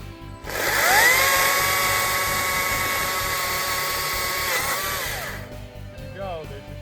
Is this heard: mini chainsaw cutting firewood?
yes